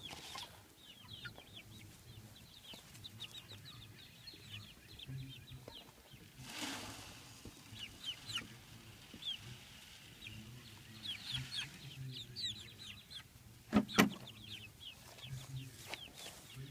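Faint clucking from a few chickens in the background, scattered soft calls over a quiet hum, with an occasional louder rustle or flap.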